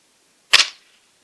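A Gamo Swarm Magnum 10x Gen3i air rifle fires one sharp, close crack through a chronograph, followed by a brief fading tail and silence.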